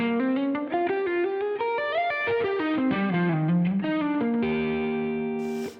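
Electric guitar with distortion and chorus playing a legato, hybrid-picked lick: a quick flowing run of connected notes that settles onto a ringing sustained chord, loud and alone with no talking.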